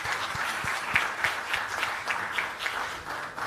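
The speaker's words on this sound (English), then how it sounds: "Can we have a resounding round of applause for our legacy partners," A smaller audience at a diaspora conference launch claps for legacy partners, individual hand claps faintly distinct in a brisk, uneven patter, fairly close and with no voices.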